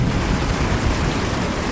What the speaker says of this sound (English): Come on, lightning, come!